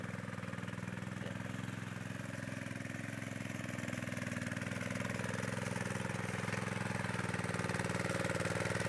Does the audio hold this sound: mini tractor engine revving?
yes